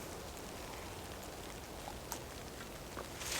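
Rain pouring down in the woods, a soft steady hiss of falling rain with a few louder drops near the end.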